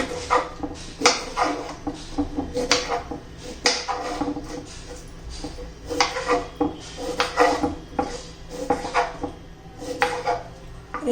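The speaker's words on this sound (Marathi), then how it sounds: "केळाची साल काढून घेऊया" Four raw green bananas being peeled by hand in a kitchen, with repeated short scraping and clattering knocks at a steady working rhythm, close and fairly loud, no talking.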